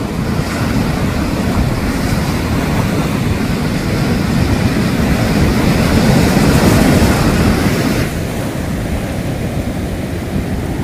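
Big ocean waves crashing and surging at Timang Beach in Jogja, a continuous loud roaring wash of surf mixed with wind buffeting, with no voices.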